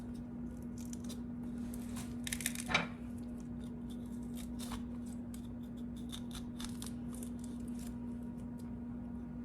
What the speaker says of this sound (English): I'm trying to cut part of the stem out